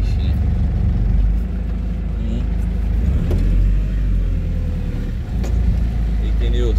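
A car's engine drones steadily with a low rumble on a road trip toward the coast, the clutch held down, with a voice speaking over it.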